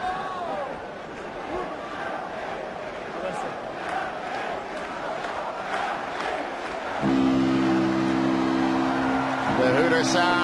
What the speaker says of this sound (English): The hooter sounds and brings a big cheer from the Toulon crowd.